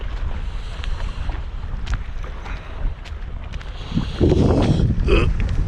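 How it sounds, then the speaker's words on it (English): Wind buffets the microphone in low rumbling gusts on a morning outdoors in Idaho, with faint knocks and splashes of water nearby, growing stronger toward the end. "It's kind of windy this morning."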